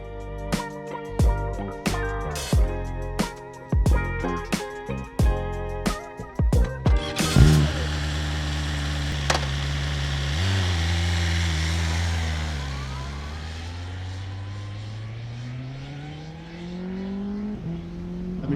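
A BMW M1000XR motorcycle fitted with an Akrapovic exhaust is ridden: a string of sharp revving blips and gear-change bursts at first, then a steady, loud engine drone that rises and falls in pitch as it pulls away and cruises.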